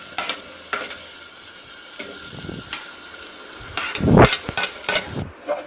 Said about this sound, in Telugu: టమాటాలు వేసుకొని బాగా వేయించుకోవాలి